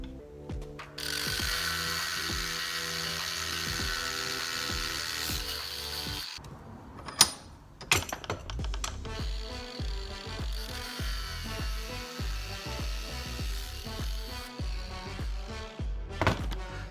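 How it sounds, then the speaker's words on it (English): A grinding tool cuts into the outer race of a well-used skateboard bearing: a steady, harsh mechanical whir runs for about six seconds, breaks off with a sharp clunk, then resumes as a rougher, pulsing grind to the end. "we'll go and cut this bearing so I can get that inner race out"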